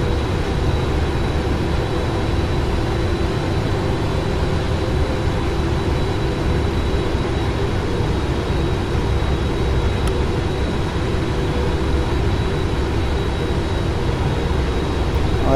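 A PMDG 777 airliner lands and slows down in the Prepar3D flight simulator: a loud, steady, broadband engine and rollout roar that holds constant throughout, with no talk.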